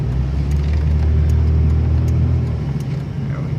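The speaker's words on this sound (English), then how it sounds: "here comes a car down the hill" Car driving down a hill on a chilly winter day, heard up close as a loud, steady low engine rumble and tyre roar that holds for the whole stretch with no talking.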